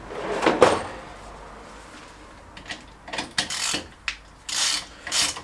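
A ratchet with a 17 mm socket runs a nut onto the Peugeot 206 suspension, starting with a faint clunk, then bursts of clicking and metallic rasping that grow louder and more rapid toward the end, with no voice.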